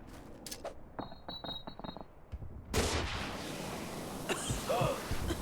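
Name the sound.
gas grenade in video game Call of Duty: Future Warfare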